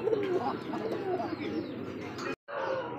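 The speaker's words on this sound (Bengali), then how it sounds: "দর্শক দেখতে পাচ্ছেন সিঙ্গেল একটা কবুতর, এটা কিন্তু শালিক কাকা।" A single Shalik pigeon coos in soft, throaty rolling calls close by, continuous apart from a momentary gap.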